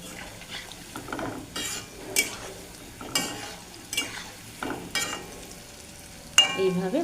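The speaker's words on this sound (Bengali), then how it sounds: "এইভাবে আমি সমস্ত বড়াগুলো ভেজে নিচ্ছি" Palm fruit fritters frying in hot oil, a quiet steady sizzle punctuated by repeated scraping and tapping of a ladle against the pan, close and soft, no voices.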